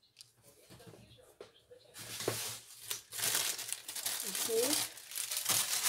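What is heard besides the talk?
peeling and handling foam tape for a handmade slider card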